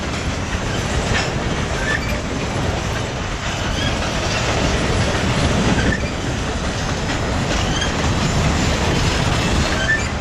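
A long freight train backs up slowly, heard as a loud continuous rumble with clanking railcars and faint wheel squeals, on a cold, windy day in Pennsylvania.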